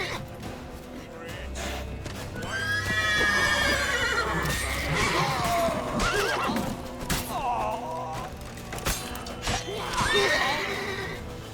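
A horse whinnies and neighs repeatedly amid hoof clip-clops and urgent shouting voices during a chase scene in The Witcher 3: Wild Hunt, the neighs rising loud and close in several bursts.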